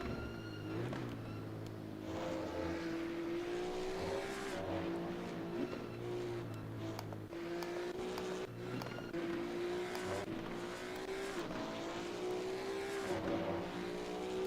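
Porsche 935 GT2 race car in Assetto Corsa Competizione at the Nürburgring in VR, its engine droning loud and steady throughout, with pitch rising and falling through gear changes and brief tire squeals.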